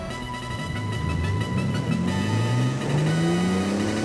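A Toyota 4Runner's six-cylinder engine revs up steadily, its pitch rising under a continuous whirring drone that stays loud and close throughout, with no talking.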